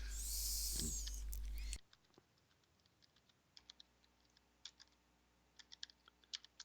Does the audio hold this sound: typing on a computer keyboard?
yes